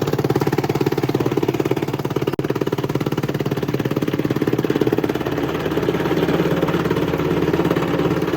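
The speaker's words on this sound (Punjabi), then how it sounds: "ਟੋਕੇ ਵਾਲੀ ਮਸ਼ੀਨ ਹੈ ਬਾਈ ਨੇ ਦੂਜੀ ਬਣਾਈ ਹੋਈ ਸਪੈਂਡਰ ਤਿੰਨ ਪਾਵਰ ਦੀ ਮੋਟਰ ਲਾਈ ਹੋਈ ਆ" Chaff cutter machine driven by a 3 HP motor, a steady rhythmic mechanical chugging and thumping that runs continuously at close range, with one brief knock partway through and no talk.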